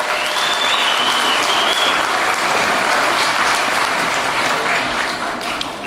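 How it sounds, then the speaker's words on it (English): Loud, sustained applause from an audience at a Ukrainian festival fills the whole stretch, steady and dense from start to finish with no voices on top. "ladies, give them a big round of applause."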